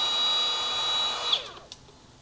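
A brushless electric die grinder whines at a steady high pitch on its second speed setting, then spins down abruptly with a couple of small clicks and knocks in a quiet room.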